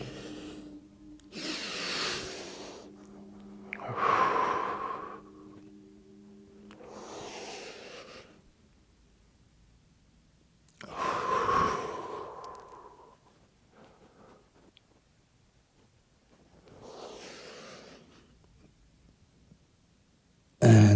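Slow, deliberate breaths during a neck and shoulder mobility exercise, several long inhales and exhales spaced a few seconds apart, close and clear with quiet pauses between.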